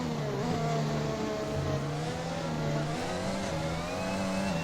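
A Formula One car engine from the F1 video game at the Portuguese Grand Prix holds a steady high-pitched whine, rising and dipping slightly with throttle changes as it runs continuously and loud.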